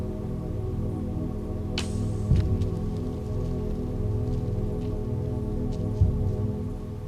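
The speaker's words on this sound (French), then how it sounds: "La pluie." Steady rain falls during a bow hunt for roe deer, a constant close patter on surfaces with a couple of brief sharper knocks, no voices.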